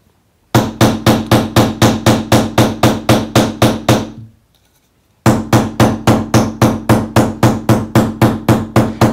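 A combination texture hammer strikes a piece of metal in fast, even blows, each a sharp ringing clank, loud and close, with one short pause before the steady hammering starts again.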